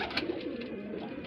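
Pigeons coo close by in a steady low murmur, several birds overlapping continuously; these are yellow-eyed flying pigeons kept for sale in Bareilly, Uttar Pradesh.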